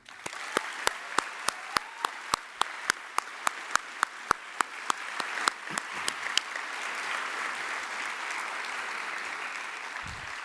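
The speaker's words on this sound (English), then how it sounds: "Will you please join me in a round of applause for our teachers?" Audience applause swells and holds steady, with a series of sharp, evenly spaced clicks running through the first half.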